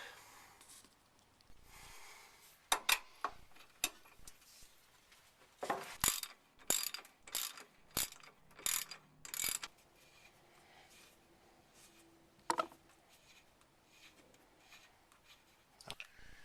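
A hand ratchet tightens the screw on a tie rod tool during a tie rod job on a GM square body truck, sounding in bursts of quick, close clicks separated by pauses, fairly quiet overall.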